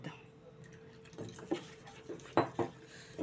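Thick ragi flour dosa batter being stirred in a bowl, soft wet scraping and occasional clinks of the spoon against the vessel, faint and close, with irregular taps standing out.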